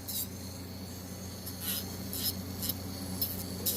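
An electric nail drill bit files under a fingernail while doing nail art, a steady low motor hum with short rasping bursts of grinding repeating about every half second, close and alone.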